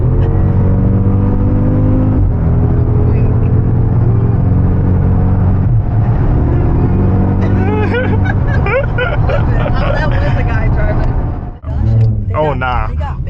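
A Jeep SRT accelerates hard with a loud, close engine roar heard from inside the cabin, rising in pitch through the gears. People talk over the engine noise, and one sharp dip comes near the end.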